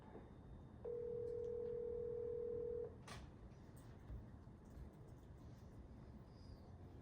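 A telephone placing a call: a single steady tone lasting about two seconds, then a short click and quiet room hiss, faint and close.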